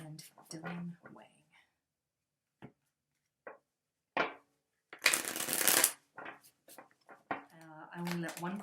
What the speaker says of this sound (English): I put it back in the deck and shuffle till one card falls out